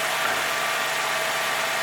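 Nissan 350Z engine idling at raised RPM after an oil cooler leak repair, a steady dense engine roar that holds constant throughout, close and fairly loud with no talk.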